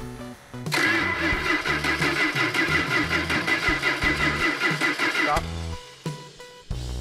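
A Hemi-powered Dodge Coronet R/T convertible with a four-speed cranks over and fires, its big engine bursting into a loud, lumpy run for several seconds before cutting off, followed by brief sputters near the end.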